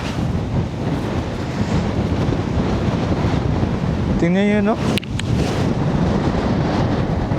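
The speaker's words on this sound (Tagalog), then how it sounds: "Lakas ng hangin dito." Strong wind roars steadily against the microphone on a seaside stop in Ilocos Norte during a motorcycle ride, with surf beneath it and a brief voice speaking partway through.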